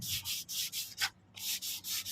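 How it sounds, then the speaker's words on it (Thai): Sheets of 150-grit sandpaper rub by hand across a car's interior panels in steady back-and-forth strokes, a loud raspy hiss repeating about every quarter second, with one brief pause. "ทีนี้การขัดกระดาษทรายเนี่ยนี่เลยนะครับเบอร์ร้อยห้าสิบเลย"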